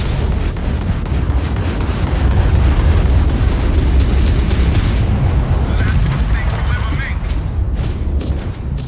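Spaceship gunfire in the video game Starfield, a dense continuous barrage of booming shots and blasts, loud and close throughout with no breaks.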